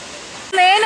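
Steady broadband roar of Talakona waterfalls near Tirupati, a large forest cascade, fills the first half-second before a voice starts talking and the rushing water drops into the background.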